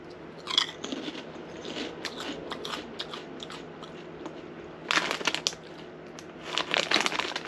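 Barbecue-flavoured Japanese snack bitten and chewed close up, a series of crisp crunches in irregular bursts with louder clusters near the start and end, no talking.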